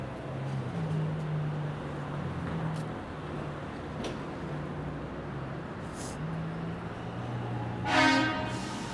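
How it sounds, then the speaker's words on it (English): A vehicle horn on a Toronto street gives one short, loud blast near the end, rising out of a steady low rumble of passing traffic. "Honk."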